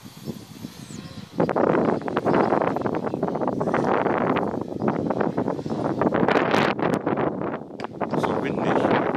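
Strong wind buffeting a microphone outdoors, loud gusty rumbling and roaring that surges and stays dense, with a brief quieter stretch at the start.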